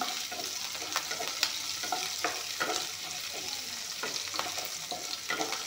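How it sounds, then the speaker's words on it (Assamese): Onions and panch phoron frying in a pan make a quiet, constant sizzle, with repeated scraping strokes as they are stirred. "এইখিনি অলপমান ভাজি ল'ম।"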